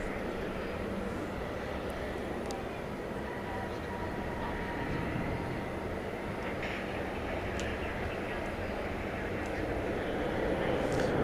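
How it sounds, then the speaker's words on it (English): An American Airlines Airbus A320 arriving at DFW Airport at night gives a steady, broad engine roar that swells slightly toward the end, with faint radio chatter and distant noise in the background. "It's American 2421, Airbus A320, arriving from Des Moines, Iowa."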